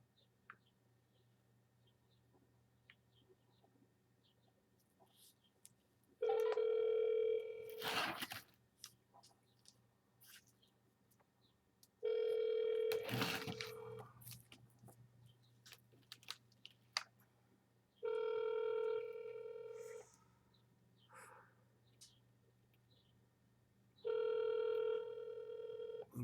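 Outgoing phone call ringing back four times, each ring a long buzzing tone with steady gaps of silence between, clear and fairly loud with a few faint clicks.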